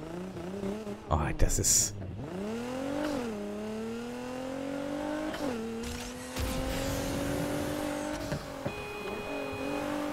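A car engine hums steadily in Need for Speed Heat, its pitch sweeping up and holding through the clip, with brief tire squeal and a voice speaking over the driving near the start.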